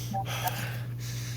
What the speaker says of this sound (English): Mouth breathing, bro.